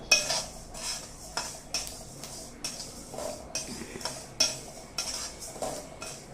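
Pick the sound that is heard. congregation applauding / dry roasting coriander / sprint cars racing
dry roasting coriander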